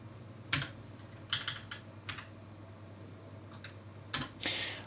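Typing on a computer keyboard, several short bursts of close key clicks separated by pauses, fairly faint over a low steady hum, with no talking.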